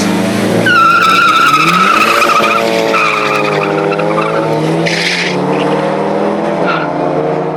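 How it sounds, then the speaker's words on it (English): Nissan SR20-engined car drag racing a TRX truck: a loud, close engine revving hard through rising gear pulls with tire squeal and shifting pitch over several seconds, no voices. "we let him drag Carlos's TRX"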